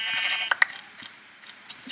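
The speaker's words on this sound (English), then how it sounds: "Oh, for the sheep." Sheep bleating in the Minecraft video game, a few short wavering bleats close up and clear, with a couple of sharp game clicks in between and no talk.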